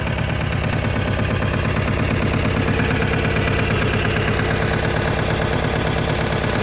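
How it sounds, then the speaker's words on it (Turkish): An Emirsan Lombardini engine runs steadily close by, a loud, even chugging idle with a pulsing low knock throughout and no voices. "Kim ne derse desin motor bu arkadaş."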